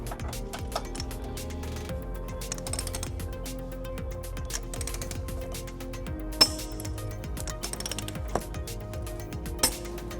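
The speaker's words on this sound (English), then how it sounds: "Now we're ready to torque our bolts to manufacturer specification." Socket wrench ratcheting on 15mm and 19mm bolts while a trailer hitch is torqued on a 2012 Volvo XC90, with faint repeated clicks and a few sharp metallic clinks, quiet and close, no talking.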